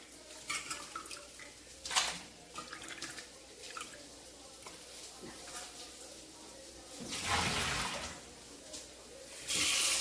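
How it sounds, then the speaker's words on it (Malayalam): Aloe vera leaves are rinsed under a running kitchen tap, with intermittent splashes and drips, softer gaps between, and a louder surge of flowing water near the end. "നന്നായിട്ട് കഴുകിയെടുക്കണം കേട്ടോ."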